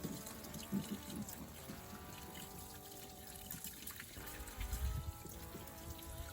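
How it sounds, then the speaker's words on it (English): Water from a garden hose flushes through the heater core of a Jeep Liberty, making a steady, faint trickling and gurgling flow with occasional louder sloshes. "now it's just clear water that's running through"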